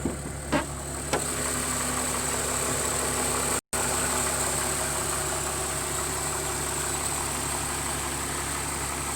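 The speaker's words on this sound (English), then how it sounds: "that's the engine running" A BMW Z3 2.2i roadster engine idles with a steady, even hum, close and continuous, with a couple of faint clicks near the start and no voices.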